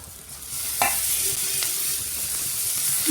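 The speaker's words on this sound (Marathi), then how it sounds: "कांदा छान परतून घ्यायचा आहे आपल्याला" Thickly chopped onion sautéing in a pan for a garlicky fenugreek dish, a continuous near sizzle with one sharp utensil knock and a brief faint scrape.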